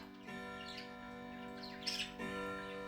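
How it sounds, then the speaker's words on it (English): Birds give a few faint, scattered chirps and squawks over a steady electrical hum in a quiet room. "So hopefully you like some birds chirping."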